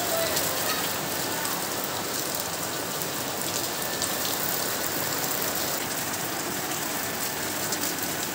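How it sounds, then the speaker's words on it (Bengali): Heavy rain pours outside as a dense, continuous hiss of drops hitting surfaces, steady and loud for the whole stretch, with no voices. "যা বৃষ্টি হচ্ছে, আরো জোরে নামছে।"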